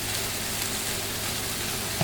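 Eggs and hot dogs frying in a pan give a steady, even sizzle, close and constant throughout, with a faint clink near the end.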